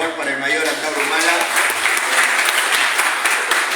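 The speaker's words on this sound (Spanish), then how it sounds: "voy a pedir aplausos nuevamente, por favor, para el mayor Antabro Humala" Audience applause at an education conference, filling the room continuously, with a voice faintly audible beneath the clapping at the start before the applause carries on alone.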